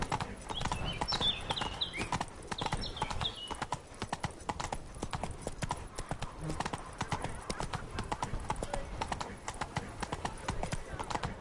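Horse hooves clip-clopping steadily in The Witcher 3, a brisk continuous rhythm of hoof falls throughout at moderate distance, with speech mixed in over it.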